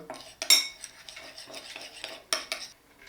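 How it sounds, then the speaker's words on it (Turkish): A spoon clinks and scrapes in a small bowl while mixing parrot chick hand-feeding formula, several light, close taps and stirring scrapes in an irregular rhythm, with no talking. "Sonra karıştırıyoruz."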